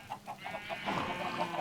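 Chickens in the Minecraft video game cluck in a quick series of soft, evenly spaced notes that blur into a denser flurry of overlapping clucks.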